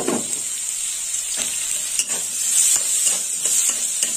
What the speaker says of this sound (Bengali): আর এখানে নিয়েছি পেঁয়াজ কুচি,